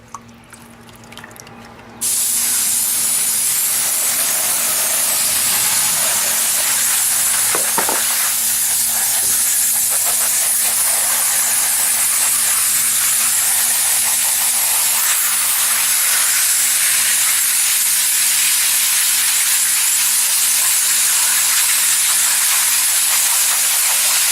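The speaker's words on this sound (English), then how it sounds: "put my 20 mesh screen, and then just hose this through" A hose sprays water steadily through a 20 mesh screen over a pan, washing gold panning concentrates in a loud, continuous hiss and splash that starts abruptly after a short quiet opening.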